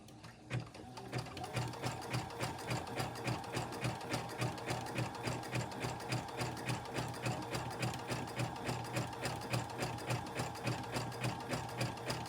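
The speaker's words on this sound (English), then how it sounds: "Kind of got to let the machine take its own time because this zigzag is so heavy" A sewing machine working a heavy zigzag stitch on an upcycled shirt, running at a slow, steady pace with an even pulsing rhythm of needle strokes, continuous and fairly quiet throughout.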